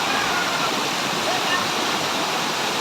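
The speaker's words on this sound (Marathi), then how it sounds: "हे बघा किती जोरामध्ये वॉटरफॉल वाहतोय." Zenith waterfall near Mumbai pours hard in the monsoon, a loud, dense, unbroken rush of falling water close by, with a voice faintly under the roar.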